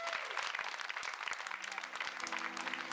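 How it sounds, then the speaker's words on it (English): Applause from an audience at a post-election gathering of local residents in a small town, a dense, steady wash of many hands clapping for the full stretch, fairly close, with a faint voice or tone appearing near the end. "Give yourselves a round of applause."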